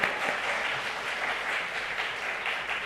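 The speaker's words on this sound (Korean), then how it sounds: "이럴 땐 박수를 좀 크게 쳐." A church congregation claps in a dense, even round of applause that fills the room for a few seconds, without a break.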